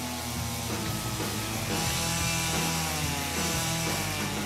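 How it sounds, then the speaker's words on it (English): A chainsaw runs steadily at close range, its engine droning and buzzing without pause as it cuts into a wooden pole. "Chainsaw in hand, she's ready to bring it down."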